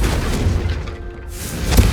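A Confringo fire spell blasts in the Hogwarts Legacy video game, a deep booming explosion that rumbles low through most of the moment, with a sharper thump near the end.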